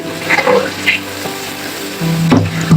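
Mixed spice paste poured into hot oil for a potato chicken curry, a wet splattering sizzle with bursts of bubbling and stirring, and a metallic clink near the end.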